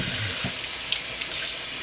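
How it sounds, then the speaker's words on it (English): Running tap water rinsing mushrooms at a kitchen sink, a steady close hiss of flowing water with a faint splash partway through. "I'm going to rinse these bad boys."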